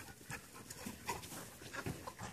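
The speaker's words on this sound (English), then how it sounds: "Sorry about that, my dogs." Dogs pant close by, quick breathy puffs in an uneven rhythm with a few soft whimpering and snuffling sounds, faint and brief.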